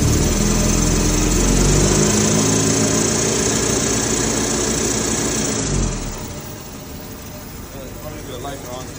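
A 1981 Toyota SR5 pickup engine with a five-speed idles steadily, a loud low rumble that drops and softens toward the end, with someone talking over it.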